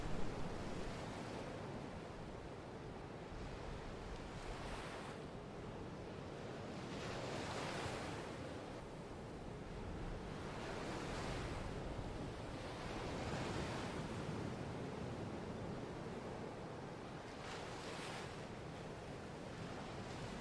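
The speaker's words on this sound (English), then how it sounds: "peaceful silence that is only accompanied by the steady rhythm of the waves" Ocean waves wash steadily onto a shore at night, a continuous soft roar with gentle surges every few seconds, distant and even, with a breath of wind and no voices.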